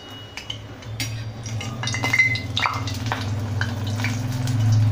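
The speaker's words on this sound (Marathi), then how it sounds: "यात आता मी घालती आहे हा ब्रेड. दोन्ही बाजूंनी गोल्डन होईस्तोवर तळून घेऊया." Bread slices fry in pure cow ghee over a low flame for Shahi Tukda, giving a soft steady sizzle with occasional light clinks of a utensil against the pan, growing slightly louder toward the end.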